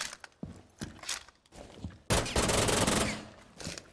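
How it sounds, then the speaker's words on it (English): Gunfire in Rainbow Six Siege comes as a few sharp single shots, then a dense, loud burst of rapid automatic fire lasting over a second, with a final shot and clattering mechanical noises. "You'll notice that if I shoot this"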